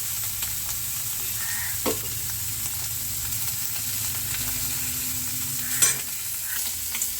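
Black cumin seeds sizzle steadily in oil in a pan after fish frying, with a couple of light metallic clinks from stirring partway through.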